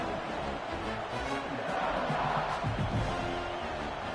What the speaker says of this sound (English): Loud crowd here at Sanford Field.